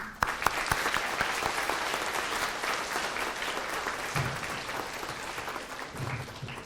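Audience applause welcoming a superintendent to the podium at a school reading room opening, steady dense clapping from a room full of people, loud and sustained for several seconds before easing slightly.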